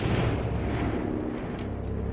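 Heavy gunfire and explosive booms from a squad breach firefight in the video game XCOM Chimera Squad, loud and continuous as a dense rumbling barrage with no distinct separate shots.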